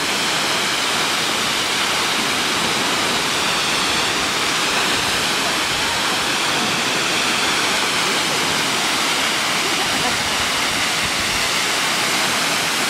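Virginia Falls near St. Mary Lake in Montana, a loud, unbroken roar of falling water heard up close, steady and dense from start to finish with no voices.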